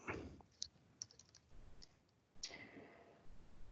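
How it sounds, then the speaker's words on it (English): Someone typing on a computer keyboard: faint, scattered key clicks in short uneven bursts, quiet and close, with soft rustling between and no talking. "I'm typing this out bit by bit."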